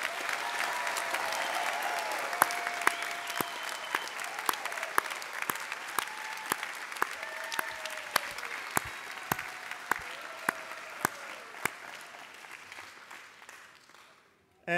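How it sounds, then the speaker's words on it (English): Family and friends in a large hall applaud graduates at a CDU university graduation ceremony, a dense, sustained wash of many hands clapping with sharp individual claps popping through, gradually thinning and fading out near the end. "please give these graduates a huge round of applause."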